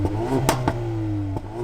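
Ford Focus ST hot hatch engine revving up close, a steady droning idle climbing with sharp blips of throttle that crackle, one loud rev near the start and another toward the end.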